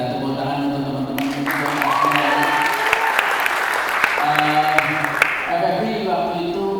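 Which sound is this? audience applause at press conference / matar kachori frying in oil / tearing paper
audience applause at press conference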